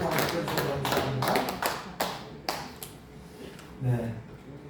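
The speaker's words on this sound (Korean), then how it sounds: "하나님께 감사의 박수 올리겠습니다" Sunday worship congregation at Yongpyeong Church applauding in thanks to God, a burst of many hands clapping that thins into scattered claps and then fades, with a voice speaking over it.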